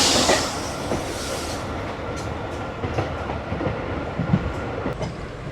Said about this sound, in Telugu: మన ట్రైన్ అయితే మంగళగిరి అయితే వచ్చేసింది కదండి